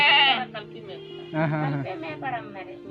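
Goats bleat in a few wavering calls, loud at the start and again midway, with people talking nearby in a small tribal village among green hills.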